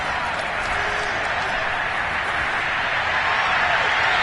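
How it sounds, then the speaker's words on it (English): Steady roar of a stadium crowd applauding and cheering at an American football game involving the Raiders, a broad continuous wash of clapping and voices sustained throughout. "We're going to give out a little applause on that play."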